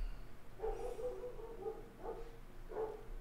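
A pet dog barks three times in short bursts, fairly close, over a low steady background hum in a home setting.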